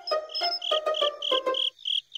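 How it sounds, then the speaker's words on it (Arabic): Crickets chirp at night in a steady run of bright, rhythmic pulses, close and clear, repeating about ten times before stopping. "هذا صوت صرصار الليل"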